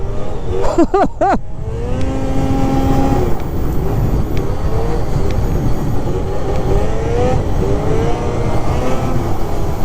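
A 600 Catalyst snowmobile engine revs hard under partial throttle, with quick rising and falling pitch sweeps early on, then a steady loud droning run with wavering engine tones close by.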